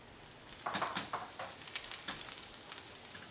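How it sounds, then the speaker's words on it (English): Chopped garlic hits hot olive oil in a saute pan and starts to sizzle, a soft, fairly quiet crackle that rises after a brief pause and then holds steady with small pops. "we're going to add the chopped garlic into the saute pan"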